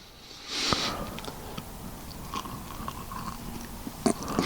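Raccoon meat doused in cherry juice is bitten and chewed up close, with a crisp crunch near the start and soft moist chewing and smacking after. Scattered sharper clicks follow, and no one speaks.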